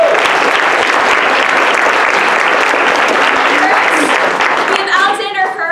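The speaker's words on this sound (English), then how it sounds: "If we could get a round of applause for them." An audience at a ten-minute play competition gives the judges a round of applause: loud, sustained clapping from a crowd, with a few voices and cheers rising near the end.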